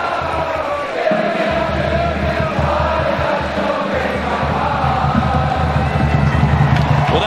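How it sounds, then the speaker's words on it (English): A large stadium crowd at a Wisconsin Badgers home football game against Georgia Southern roars and sings in a dense, continuous wash after a touchdown, loud and steady throughout. "And then the crowd sings for you."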